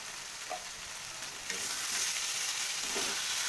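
Potol chingri, pointed gourd with prawns, fries in a pan after cumin powder goes in, giving a continuous soft hiss that grows a little fuller halfway through, with faint stirring taps. There is no speech.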